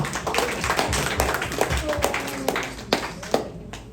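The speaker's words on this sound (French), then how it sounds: "Et nous on va un applaudissement pour Bishop de Léon." A church congregation breaks into applause, a dense patter of clapping hands with a few sharper claps standing out, mixed with voices talking and calling over it.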